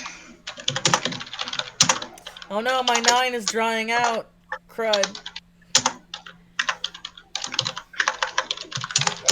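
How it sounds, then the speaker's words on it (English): Rapid, clattering keystrokes on a clunky, clicky computer keyboard come in bursts, close and fairly loud, while a person talks over parts of the typing. "Why does everyone say that I type aggressively? I'm just typing."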